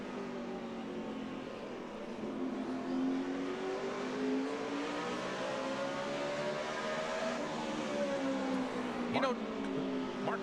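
A NASCAR stock car laps Martinsville during practice, its engine note rising and falling as it accelerates and lifts around the short track, heard at moderate distance as a steady drone without talk.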